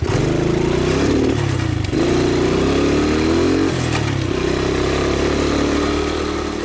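A motorized all-terrain vehicle rides through the Russian taiga, its engine loud and close, droning steadily with rising revs that drop at each gear change, several times over, and no talking.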